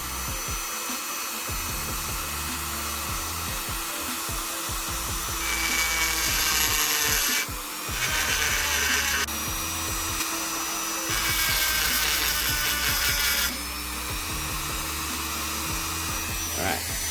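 A rotary tool with a carbide bit grinds into a Gila piston, giving a continuous high-pitched whine close by, broken by louder bursts of harsh grinding as the bit bites into the metal.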